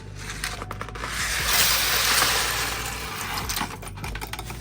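Dry spaghetti from a box being added to a pot for baked spaghetti, a dense clattering rattle of stiff noodles against metal that swells in the middle and continues steadily, close and fairly loud, with no talking.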